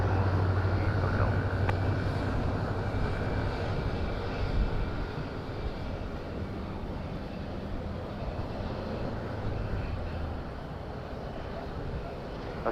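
A fixed-wing aircraft comes in to land at Madeira Island Airport with a steady, loud engine roar and low rumble that hold throughout, heard from nearby with no break.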